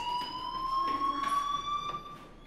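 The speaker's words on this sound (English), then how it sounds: "Hey, do you hear that fire alarm?" A school fire alarm in the video game Life is Strange rings as a steady high electronic tone with harmonics, continuous and moderately loud for the whole stretch.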